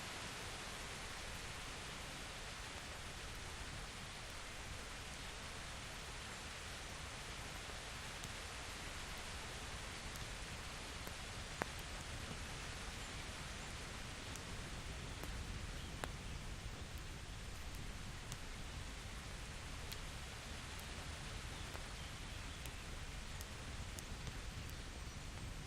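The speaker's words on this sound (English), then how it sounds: "Sound of the rain." Constant rainfall in the medieval game Kingdom Come: Deliverance forms a broad, unbroken wash of noise. It stays at one level throughout, with occasional tiny ticks of drops and no voices.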